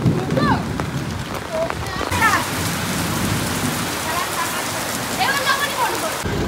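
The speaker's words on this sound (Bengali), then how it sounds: "ঠিক তার দ্বিগুণ বৃষ্টি আরম্ভ হয়েছে, আর আমরা সবাই ভিজছি" Heavy rain pours down in a steady, loud hiss outdoors, drenching people on their way home, with faint chirps and brief voices heard over the downpour.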